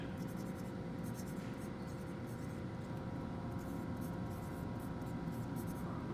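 Pen or pencil writing a sketch name on paper while drafting a mini-barn gambrel template, a steady soft scratching held under a constant hiss for several seconds with no talk.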